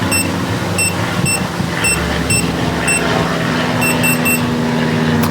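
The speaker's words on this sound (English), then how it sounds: "it double beeped at me" A Eufy smart lock keypad gives out repeated short, high electronic beeps in pairs, sharp and clear over a steady low outdoor hum.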